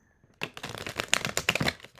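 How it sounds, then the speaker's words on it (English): A deck of tarot cards being shuffled close up, a quick burst of rapid papery riffling and slaps after a brief quiet start. "A little shuffle in there."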